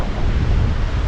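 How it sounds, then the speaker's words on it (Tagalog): Strong ocean surf at Palani Beach, Masbate, crashes in a loud, continuous wash mixed with wind buffeting the microphone. "Ang lakas ng alon"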